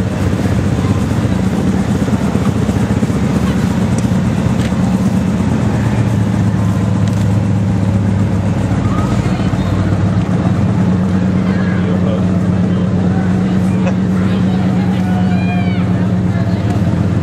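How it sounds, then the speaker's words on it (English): A 1979 Chevy pickup drives past in a parade, its steady engine drone loud and continuous, with crowd murmur mixed in. "Here is a 1979 Chevy pickup and 4-wheeler"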